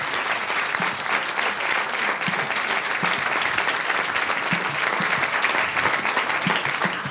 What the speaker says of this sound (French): Je vous propose aussi d'applaudir Ramayad pour sa présence et la remercier